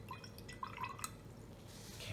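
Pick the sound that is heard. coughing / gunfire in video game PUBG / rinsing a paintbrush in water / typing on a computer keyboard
rinsing a paintbrush in water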